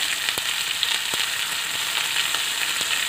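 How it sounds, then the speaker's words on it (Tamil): Onions sauté in a pan with green chili, ginger and garlic while Bombay chutney is being made, giving a close, steady sizzle with occasional stirring clicks and no voices. "இப்போ வெங்காயம் கொஞ்சம் பாதி வதங்கட்டும்"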